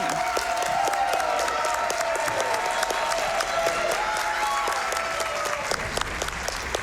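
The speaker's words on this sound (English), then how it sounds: "Can we get a big round of applause for Glubbers and that amazing run?" An audience at a speedrunning charity event bursts into sustained applause and some cheering after a Legend of Zelda: Echoes of Wisdom run, a dense steady clapping that fills the whole stretch.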